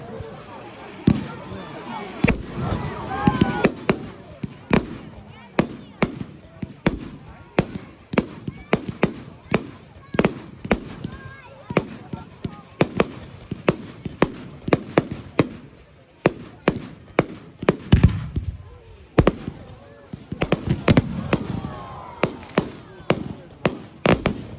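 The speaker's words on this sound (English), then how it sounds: "It's the premature fireworks." Fireworks display on bonfire night: a long run of sharp, loud bangs and crackles bursting at irregular intervals, some close together in quick clusters, with occasional voices between them.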